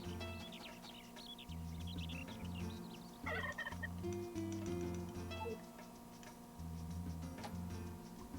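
Short, repeated clucks from a chicken in a video game, not loud, over a looping musical background with ticking sounds and no talk.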